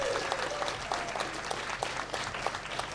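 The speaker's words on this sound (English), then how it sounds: "can you please give a massive round of applause for Ben?" An audience at Carlisle College claps for a student named Ben. The applause is a steady, lively patter of many hands across the whole moment.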